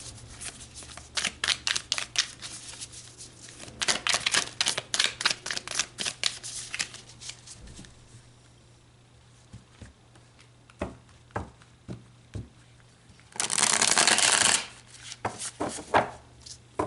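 Tarot cards being shuffled by hand, a long stretch of crisp riffling flicks and slaps, then scattered taps and a short burst of dense card rubbing, close and fairly quiet.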